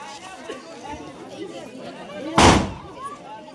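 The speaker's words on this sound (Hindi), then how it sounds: "पटाखे फूट रहे हैं।" At an outdoor engagement party, a crowd chatters steadily until a single firecracker bursts with a sharp, loud crack and a brief crackling tail, then the voices carry on.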